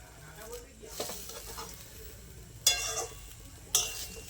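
Ground coriander and cumin powder sizzle and get stirred in a hot pan, a steady crackling fry with scraping strokes and two sharper, louder bursts of sizzle near the end.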